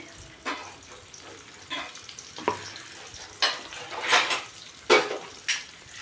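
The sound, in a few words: finely chopped onion frying in oil in a kadhai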